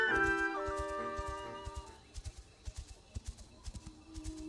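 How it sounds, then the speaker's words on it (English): Horse hooves galloping in the video game The Legend of Zelda: Echoes of Wisdom, in the Eternal Forest. A steady, rhythmic run of clip-clops follows a short stretch of tonal game music that fades out, with no talking over it. "I'll go via horse this time"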